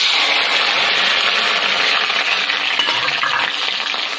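Onion frying in a pan, a loud, close, continuous sizzle with a broad hiss and slight stirring scrapes, steady for the whole stretch, with no talking.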